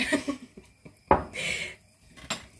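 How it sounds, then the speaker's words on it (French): Metal spoon clinks and scrapes in a cooking pot while rabbit is stirred with white wine, a few sharp knocks and a brief scraping swirl, close and fairly quiet. "On va toutouiller un petit peu."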